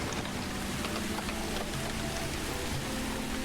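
Steady, soft rain falls in the Songs of Syx city-building game, a constant hiss with no pauses and no voices.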